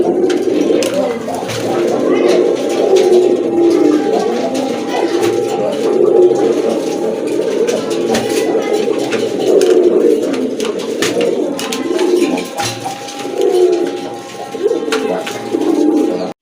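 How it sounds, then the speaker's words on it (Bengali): Steady, overlapping cooing from a group of pigeons, including a satinette male, fills the whole stretch, a continuous low warbling murmur from several birds nearby. "খুবই সুন্দর একটা নর কবুতর, শার্টিনের নর কবুতর"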